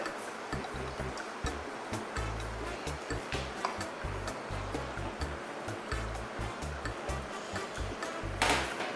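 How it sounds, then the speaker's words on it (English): Water poured into grated coconut to extract its milk, a steady rushing, splashing flow that continues without a break for several seconds at close range, with no voices. "we're going to pour some water into the grated coconut so that we can extract its milk"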